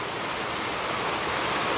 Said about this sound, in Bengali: বড় বড় ফোটায় বৃষ্টি